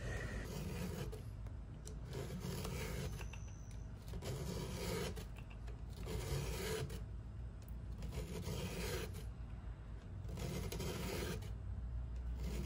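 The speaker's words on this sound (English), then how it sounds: "I'm holding the saw and applying some force to make sure that it is obviously filing the tooth" A hand file rasps across saw teeth in steady repeated strokes, each pass a gritty scrape lasting about a second with short pauses between, loud and close with no talking.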